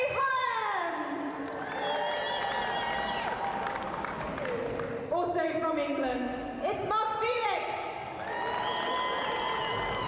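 A strongman competition crowd cheers and claps as English competitor Mark Felix is introduced, with an announcer's amplified voice ringing over steady applause and whoops.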